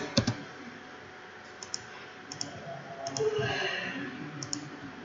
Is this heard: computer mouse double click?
yes